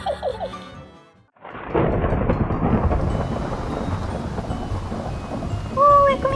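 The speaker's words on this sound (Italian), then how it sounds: "è cominciato a piovere," A heavy downpour bursts in with a deep rumble of thunder, loud and continuous, following a short voice at the start, with a brief high voice-like sound near the end.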